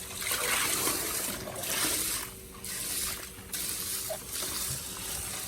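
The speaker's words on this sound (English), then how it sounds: "Just put a little bit of gravel in the bottom, stir the crap out of it, and then you want to tip off the dirty water like this." Dirty water is tipped off a container of washed aquarium gravel in a few pours, each a short trickling splash with brief pauses between.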